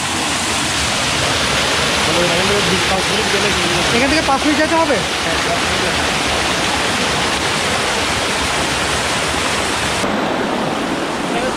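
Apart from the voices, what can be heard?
stream flowing near Chingri waterfall, Bandarban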